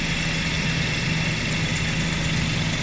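A Suzuki Every Wagon DA64W idles with its aircon compressor clutch engaged, a steady, even engine hum with a constant low drone, alone and without talk.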